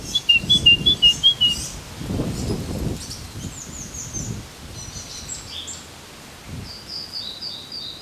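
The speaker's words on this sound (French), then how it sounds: "Il y a un merle au-dessus." A blackbird sings overhead in a Paris street, its faint, fluting phrases coming through in short bursts over a low rustle and background city noise.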